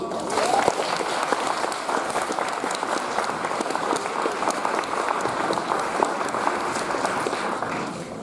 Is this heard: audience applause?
yes